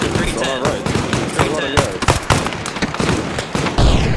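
Rapid bursts of gunfire crackle in Arma Reforger during a jungle combat patrol in Vietnam, dense overlapping shots and reports close and loud, mixed with voices shouting over the firefight.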